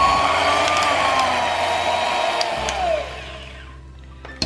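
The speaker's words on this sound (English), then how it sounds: "You see how easily the potatoes are mixing together with the other ingredients." An electric mixer whirs steadily through sweet potato casserole ingredients, its motor pitch gradually falling as it slows, then cuts out near the end with a brief clunk, loud and close.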